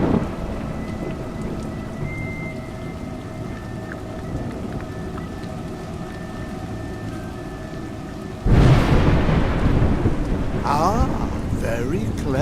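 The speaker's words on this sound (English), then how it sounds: "You seem surprised that rain comes from the heavens." Steady rain patters throughout, then a loud burst of thunder rumbles in and the downpour grows heavier.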